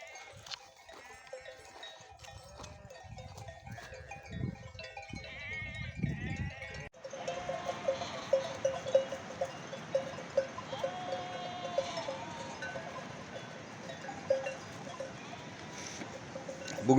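Sheep and goats bleat repeatedly amid the clanking of cowbells, several animals calling near and far while bells jingle irregularly, with faint background noise and no clear talk.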